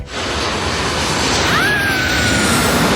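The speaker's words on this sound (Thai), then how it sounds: "ตรงนี้เราจะเห็นเครื่องตอนที่เขามาแลนดิ้งนะคะ" An airliner passes low on its landing approach over Mai Khao beach in Phuket. Loud, broad jet roar fills the air, with a thin rising whine coming through the rush, and no voices are heard.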